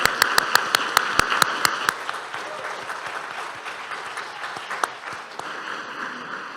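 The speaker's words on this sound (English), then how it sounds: "Let us applaud these young people for their wonderful work that they have done." A congregation applauds young people at a coming-of-age service: sharp individual claps at first, then dense sustained applause that fills the room and gradually thins out, with no talking.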